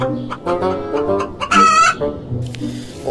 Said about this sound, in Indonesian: Wow, ada ayam jago.